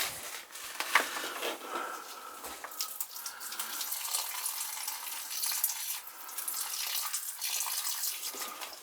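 Water drains through a siphon hose from a Carrier AC unit, a continuous close splashing and trickling flow with no breaks.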